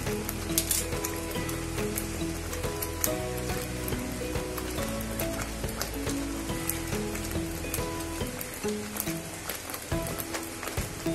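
Paneer cubes go into a pan of cooking spinach and are stirred in, giving a steady close sizzle and frying crackle with scraping stirring strokes throughout.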